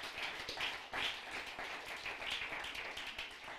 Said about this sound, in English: Give the Lord a hand clap of praise while I take a drink.